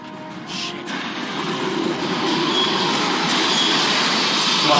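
Film train sound effects build as a rail rumble grows steadily louder over several seconds, a continuous rolling roar with a faint hiss on top.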